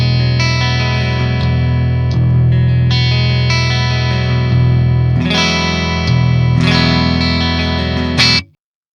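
A Schecter C8 Evil Twin multi-scale 8-string electric guitar played through the neck pickup on its second voicing, giving loud distorted chugging chords and sustained notes that ring for about eight seconds before stopping abruptly.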